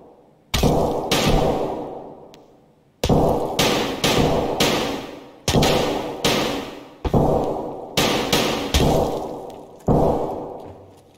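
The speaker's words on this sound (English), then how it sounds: "He's totally shooting at me." Video game gunfire in a multi-story building firefight, heard as loud, sharp bursts of closely spaced shots in repeated clusters of three to four, each separated by brief pauses, with no talk over them.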